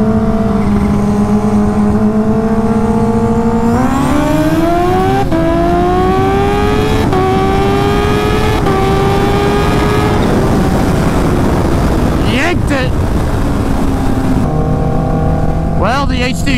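A stretched Kawasaki Ninja H2 races a turbocharged Suzuki Hayabusa, the engine revving up through rising gears with loud, steady power, a brief whoosh near the end before the note drops back.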